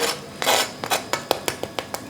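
A knife saws through a crunchy toasted Reuben sandwich, a longer crackling cut followed by a quick series of crisp crunches, close up with no talking.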